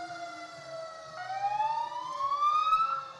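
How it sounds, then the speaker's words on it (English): Emergency vehicle sirens wail at a holiday parade, a fire district truck and an ambulance among them, rising in pitch and growing louder as they pass, with no talk. "These emergency vehicles are part of the show."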